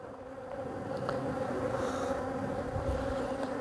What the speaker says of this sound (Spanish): voy a coger las abejas de aquí a ver si puedo